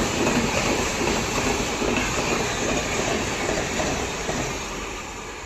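A train passing at Etawah Junction: a loud, steady rolling roar with clickety-clack wheel rhythm and some wheel squeal, close by, fading slightly toward the end.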